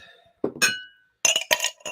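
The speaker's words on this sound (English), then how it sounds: "Ice in the glass." Ice cubes clink and chink into a glass for a cocktail, a few sharp close bright hits in two bursts separated by a brief pause.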